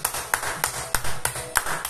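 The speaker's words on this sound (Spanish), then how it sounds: "y un aplauso" A few crisp hand claps sound close by in an even, spaced rhythm, about six sharp slaps in under two seconds, as a small thank-you round. No speech is heard over them.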